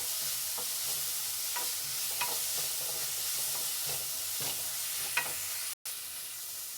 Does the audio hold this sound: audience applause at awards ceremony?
no